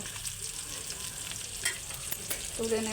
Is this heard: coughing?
no